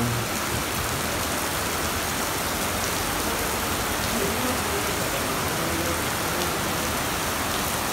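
Extreme heavy rain in the UAE on New Year's makes a dense, steady roar of downpour on surfaces, loud and close and unbroken throughout, with no clear voices.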